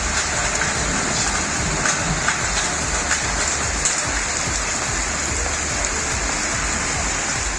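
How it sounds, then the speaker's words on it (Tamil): Sudden rain falls steadily and heavily in a town, a dense, constant hiss of drops on surfaces that stays loud and even throughout. "பெய்த திடீர் மழையால் வெப்பம் தணிந்து மக்கள் நிம்மதியடைந்தனர்"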